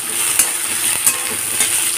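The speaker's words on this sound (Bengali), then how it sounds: "পেঁয়াজগুলোকে ভেজে নেবো আর গ্যাসটাকে এখন হাই ফ্লেমে করে দিয়েছি।" Onions frying in mustard oil in a wok over a high gas flame, a loud continuous sizzle broken by three soft, evenly spaced scrapes of a spatula.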